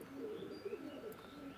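A pair of young adult Pakistani Teddy pigeons coo softly, a low warbling call held across the moment at close range, with no talking over it.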